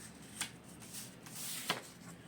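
Tarot cards riffled and shuffled by hand in a quiet room, soft faint rustling with two brief sharper flicks as a card springs loose from the deck.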